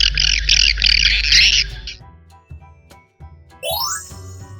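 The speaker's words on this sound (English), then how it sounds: "Swallow." A swallow twitters in a loud, rapid, buzzy stream of high chatter lasting about two seconds, then falls quiet before a rising swoop, with no speech.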